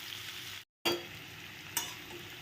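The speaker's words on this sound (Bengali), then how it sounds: "সুন্দর করে ভাজা ভাজা করতে হবে এটাকে।" Boiled potatoes fry in a pan over a high flame while being made into posto, giving a close, steady sizzle broken by a brief gap and a short stirring scrape.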